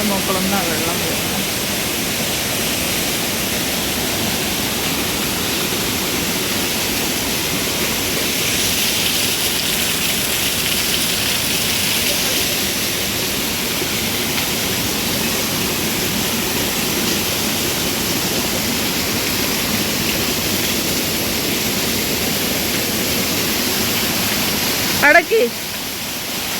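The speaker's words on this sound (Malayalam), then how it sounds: "പാറിൻ്റെ മുകളിൽ വെള്ളം വരുന്നത്." At Thusharagiri, waterfall water rushes over rocks in a loud, unbroken roar that continues throughout, with a brief knock near the end.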